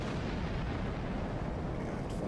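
A photon torpedo turret explodes in Star Trek Online, a dense, continuous roar of blast noise filling the whole moment at steady moderate loudness, with no talk over it.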